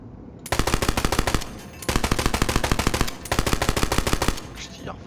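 Rapid automatic gunfire from the video game Borderlands 3 in three loud sustained bursts separated by brief pauses, with a faint rising whoosh at the end.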